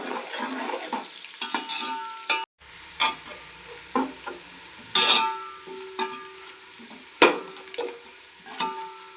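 Onions fry in a pan for mutton pulao while a spatula stirs them. A soft, steady sizzle is broken by repeated scraping strokes at irregular intervals, with one short silent gap.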